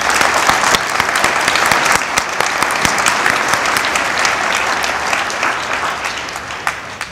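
Sustained applause for donors from a gathering at a Catholic school hall dedication, dense steady clapping that carries on without speech before tapering slightly.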